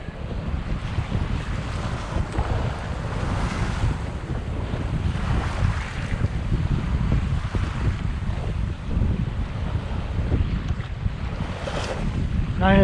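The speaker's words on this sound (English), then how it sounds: "A bit of a chop in the waves." Choppy East Coast estuary waves slap and wash against a small Tomahawk sailing boat tacking upwind, with steady wind buffeting and rushing water throughout, no voices.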